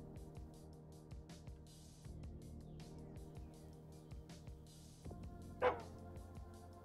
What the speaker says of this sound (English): Look, it's a small white dog.